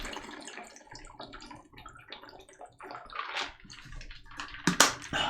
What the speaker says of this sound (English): That water bottle probably sounded crazy on the microphone.